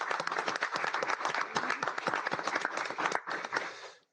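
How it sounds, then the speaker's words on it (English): A small audience at an Orange County Board of Education meeting applauds a retiring staff member, a close, brisk burst of clapping that lasts a few seconds before cutting off. "let's give Renee a round of applause"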